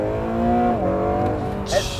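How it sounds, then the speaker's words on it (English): A 2022 Acura NSX Type S in sport mode pulls at full throttle in 6th gear, its engine a loud, close, steady droning hum that climbs slightly in pitch, with a brief squeak near the end. "I'm in sport, cruising in 6th gear, and I'm going to floor it"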